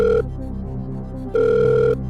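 Telephone ringing tone on a call, two loud electronic rings separated by a pause, clear and close with no talking over them.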